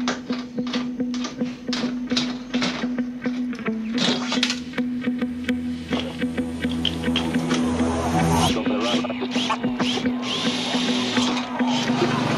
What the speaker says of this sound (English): I hate drilling holes, especially in my car.